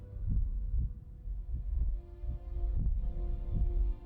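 Low, throbbing heartbeats pulse steadily under a faint hum in a scene from the Daredevil TV series, with about six soft, regular thumps close up and no talking.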